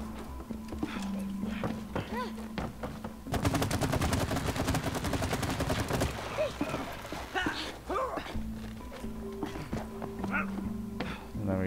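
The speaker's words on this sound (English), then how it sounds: "You gotta shoot the honey." Rapid bursts of video-game gunfire in It Takes Two, shooting at honey-like sap, a dense rattling volley in the middle with players talking before and after.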